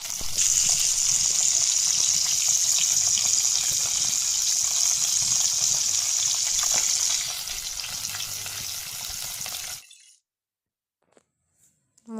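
Water runs steadily from a tap as a bottle gourd is washed, a loud continuous rushing and splashing that stops abruptly near the end, leaving near silence with a few faint clicks.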